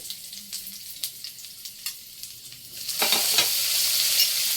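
Onion and tomato sautéing in a pan for pakbet: intermittent soft scrapes and stirring taps at first, then a louder, steady sizzle as the tomato goes in.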